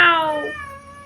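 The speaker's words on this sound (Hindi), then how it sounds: "यहाँ पर बहुत प्यारी सी बिल्ली है, और जितने बार हम उसे म्याऊ करके बोलते हैं ना उतनी बार वो उसका रिपीट करके म्याऊ बोलती है" A cat gives one close, clear meow that starts loud and fades into a trailing tonal tail, heard alone without talking.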